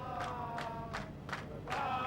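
Rescue teams waiting on the surface at the Chilean miner rescue site cheer in short rhythmic bursts, with scattered claps and shouts from a distant crowd, fairly faint.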